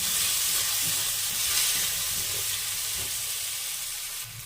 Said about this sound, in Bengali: ফোড়নে দিয়ে দেবো গোটা জিরে এর মধ্যে দিয়ে দেবো পেঁয়াজ কুচি নেড়ে নেবো